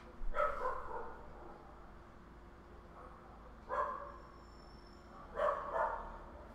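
Another dog barks in the background during a FIFA 19 livestream, three brief bursts of barking spaced a couple of seconds apart, faint and distant over a low room hum.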